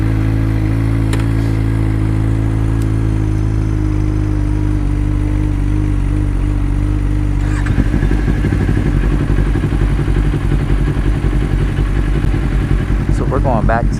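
A Kawasaki Ninja 400 motorcycle engine runs loud and close, a steady low drone that shifts into a rougher, pulsing rumble midway, with brief clicks and a rising whine near the end.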